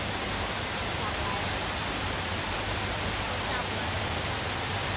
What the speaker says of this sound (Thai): ฝนตกจ้า